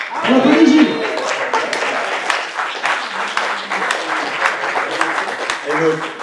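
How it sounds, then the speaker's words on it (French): A live audience applauds a named participant at an anti-homophobia event, the clapping steady and dense across the whole stretch, with voices talking over it throughout. "On applaudit Gilles."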